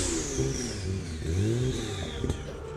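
AMS Alpha 12 Nissan GT-R, a 1,100-horsepower twin-turbo build, revving its engine; a loud, close growl rises and falls in pitch over a few seconds with a brief clatter near the end.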